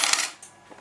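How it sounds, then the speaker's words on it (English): Japanese pachislo fruit machine converted to take British 10p coins, ejecting a short burst of coins that clatter into the metal tray, loud and close with a few faint clinks trailing off. "So if I press the button, it ejects coins."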